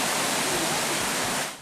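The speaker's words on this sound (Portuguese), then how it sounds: "Esse barulho que a gente está ouvindo agora, água escorrendo, água descendo" Water runs and pours down beside a creek that overflows after heavy rain, a dense, hissing rush that holds steady and then fades briefly at the end, with no voices.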